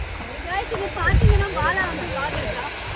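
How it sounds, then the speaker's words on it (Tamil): Water flowing at Chiklihole Reservoir in Coorg, Karnataka, a low rushing wash heard beneath a person talking close by throughout. "இங்கே பார்த்தீங்கன்னா இங்கே தான் வாட்டர் ஃப்ளோ போயிட்டுருக்கு"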